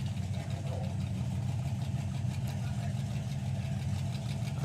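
A supercharged Ford Model Y drag racing car rumbles with a deep, steady, throbbing engine note that holds even and loud throughout, heard at the strip.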